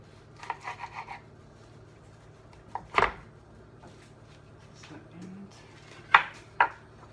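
A knife chops tomato on a cutting board for pico de gallo, giving a few quiet, scattered taps and knocks with a brief scrape in between, set against a soft room background.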